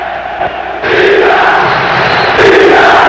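A football crowd chants loudly and continuously in a stadium, its massed voices surging and swelling as Vasco supporters call out to their long-serving veteran player.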